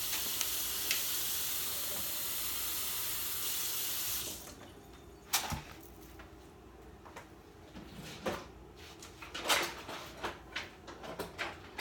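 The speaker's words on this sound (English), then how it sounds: "I need to take a 1/2 cup of water" Water gushes steadily for about four seconds with a bright hissing rush while a half cup is poured, then stops, followed by scattered quiet clinks and handling sounds nearby.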